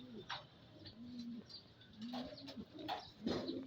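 Racing pigeons cooing in repeated soft, low calls from close by, with a few wing flutters and brief scuffles between the coos, and no voices.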